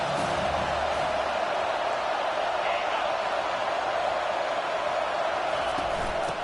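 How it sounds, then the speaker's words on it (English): A dense, steady roar of a large stadium crowd in a football video game fills the whole stretch, constant and loud, with no distinct voices standing out. "This crowd bringing the energy and noise early."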